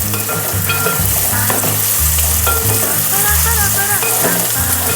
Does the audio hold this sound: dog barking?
no